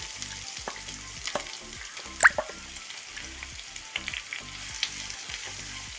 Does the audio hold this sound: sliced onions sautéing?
yes